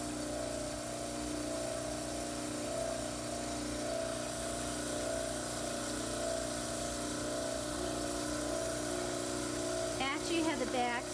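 A dental model trimmer runs steadily with a continuous motor drone and grinding hum, with a brief higher scraping burst near the end as a plaster mandibular cast is pressed against the wheel.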